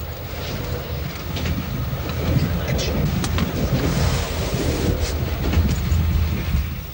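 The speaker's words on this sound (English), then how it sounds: "Inside the train, a little religious geography." Interior of a moving train in Yugoslavia: steady low rumble and rattle of the carriage with wind-like noise throughout, a few faint clicks, and a voice speaking faintly in the background.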